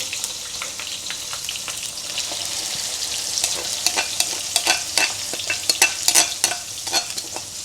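A pan sizzles and crackles steadily as a thick blended spice paste for chicken rendang is stirred in to fry, with scattered sharp pops growing denser over time.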